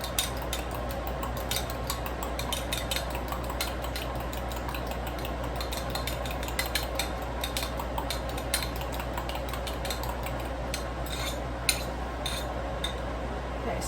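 A whole egg is beaten in a bowl, with quick repeated whisk or fork taps and light clinks running steadily at a modest level over a constant low hum, and no talking.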